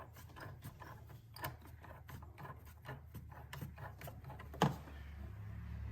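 Hose clamp being loosened on the breather snorkel of a 2013 Dodge Journey 3.6L V6 engine, giving small ratcheting, scraping mechanical clicks at close range, with one sharper snap near the end over a steady low hum.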